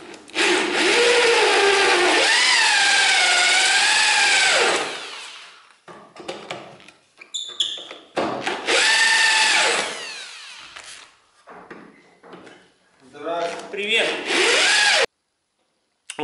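A cobalt cutter drills into the steel frame rail of a Volkswagen Tiguan in a body shop, with loud grinding bursts broken by pauses, rising and falling as the drill works through the metal.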